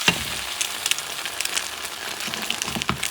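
Cod Spanish omelette sizzles steadily in a pan after being flipped, with a continuous close, crackling fry hiss and scattered sharper pops, and no voices.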